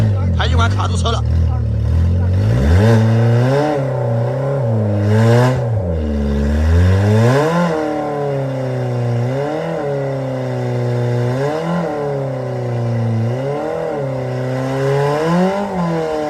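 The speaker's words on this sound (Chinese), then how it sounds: "排气管卡住车了" A car stuck on its own detached exhaust pipe revs repeatedly, its engine note rising and falling in loud close surges with rattling underneath, while people talk over it.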